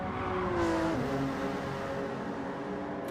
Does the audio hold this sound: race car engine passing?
yes